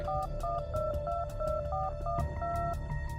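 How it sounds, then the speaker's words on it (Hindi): Phone number being dialed, a quick run of touch-tone beeps in an even rhythm, clear and close with no talk. "उसने अपने दूसरे फोन में डायल किया"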